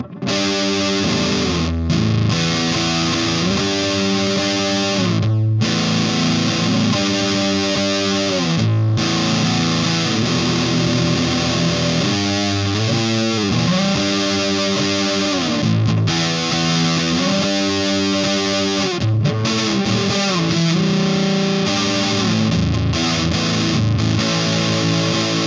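An electric guitar plays through an EarthQuaker Devices Acapulco Gold distortion pedal, with thick, saturated, sustained chords and riffs played loud and continuously, with no talking.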